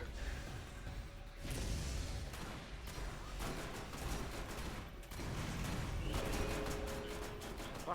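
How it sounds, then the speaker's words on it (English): Grenade blasts in the video game Borderlands: a sustained barrage of explosions and rumbling impacts with whooshes, loud and dense throughout with no clear pauses. "I'm gonna throw all of my grenades."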